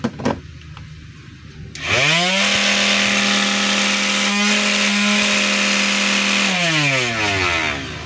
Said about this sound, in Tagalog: Ito po yung finishing sander ng DeWalt. So ito mga kabay, gumagana siya pero maingay, garelgal yung andar.